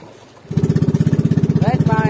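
Fishing boat engine starting up on a net-fishing trip, kicking in abruptly after a quiet moment and then chugging close and loud in a fast, even pulsing rhythm.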